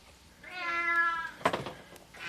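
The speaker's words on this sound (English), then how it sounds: "the cat was no longer just meowing, it was yowling" A cat stuck deep inside a vent lets out a long, drawn-out yowling meow, then a short, sharper cry, close and loud in an enclosed space.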